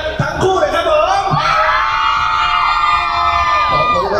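A crowd cheers at an Acer x Power Mall Gaming & Creator Festival, a loud sustained roar of yells and whoops that holds steady throughout, close and dense.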